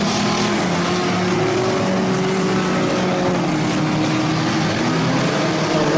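Bomber-class race cars run a 15-lap season championship feature on a dirt track, a continuous droning engine roar with shifting pitch from several cars circling at a distance, steady and without speech.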